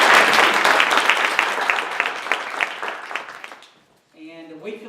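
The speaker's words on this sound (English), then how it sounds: "So I want to give them a big round of applause for their time." Audience at a Parent University community event bursts into applause, dense clapping that gradually thins and fades over several seconds, followed by a short gap and then a voice speaking.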